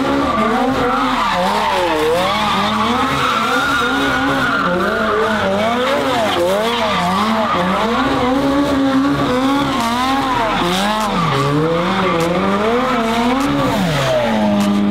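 A rough, cheap supercar spins donuts, its engine howling in wavering revs while the tyres squeal and skid continuously, loud and close throughout.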